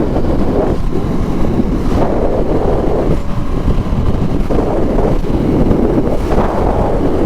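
Steady roaring wind buffeting the microphone while riding a 2019 Ducati X Diavel S, a naked cruiser without a windshield, constant and loud for the whole stretch with no talk.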